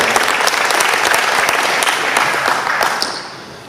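An audience at a club meeting applauds steadily, a dense wash of many hands clapping that stays loud throughout and begins to taper off at the very end.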